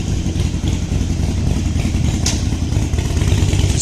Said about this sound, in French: Ah, petite moto.